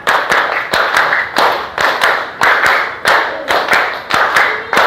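A class of pupils claps in unison, giving repeated bursts of sharp, loud, close hand claps in a steady rhythm, with short pauses between the groups.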